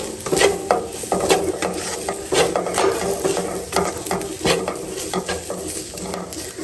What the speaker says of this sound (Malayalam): അതെല്ലാം കൂടി നന്നായിട്ട് മിക്സ് ചെയ്ത് കൊടുക്കാം.